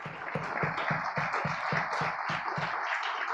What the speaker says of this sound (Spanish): vamos a darle un fuerte aplauso a nuestro invitado, hermanos.